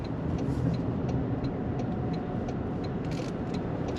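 A 2026 Toyota Corolla Cross S AWD hybrid SUV driving along, with a steady broadband road and engine rumble heard from inside the cabin, even in level throughout with no talk.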